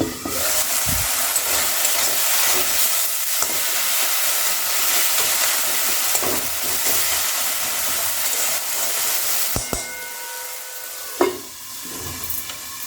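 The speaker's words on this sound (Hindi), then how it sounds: "बीच बीच में चलाते हुए टमाटर को अच्छे से पका लेंगे" Tomatoes sizzle steadily in a pan for a baingan bharta, a loud continuous frying hiss with occasional scrapes and clinks of stirring near the end.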